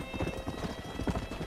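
Rhythmic clip-clop of horse hooves trotting in the video game Red Dead Redemption, steady and fairly close, with a faint high electronic tone running underneath.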